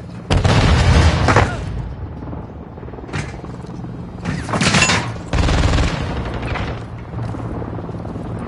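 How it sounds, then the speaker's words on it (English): A hand grenade blast during combat in Gaza, heard as loud booming bursts and rolling detonations that repeat over several seconds amid battlefield noise. "Throwing grenade!"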